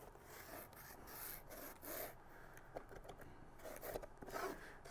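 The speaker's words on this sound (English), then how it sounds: "draw a line across the side of your cushion" A paint pen is drawn along the side of a foam seat cushion, giving soft, continuous rubbing and scratchy strokes in several passes, quiet and close with no talking.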